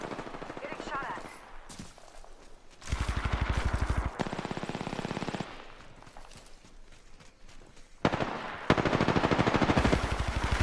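Loud bursts of automatic gunfire from Apex Legends pelt the player in long rapid strings, with brief gaps between volleys and footsteps in between.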